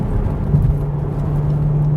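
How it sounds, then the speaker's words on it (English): A BMW X5 M with a 555-horsepower engine and sport exhaust drones steadily from inside the cabin, a low constant engine hum with no talking over it. "But the sport exhaust just sounds mean."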